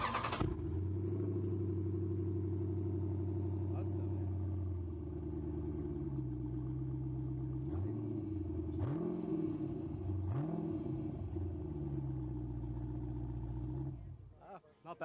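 A 6.4 Hemi V8 with a custom 3-inch 305 stainless exhaust idles with a deep, loud burble, dips, then blips the throttle in a few short revs before settling back and shutting off, with people talking nearby.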